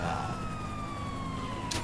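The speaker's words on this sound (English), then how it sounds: "did I really just steal 2 police cars?" Police car siren in the video game GTA V, a steady, slowly falling wail held throughout, heard faintly under a dense layer of game noise.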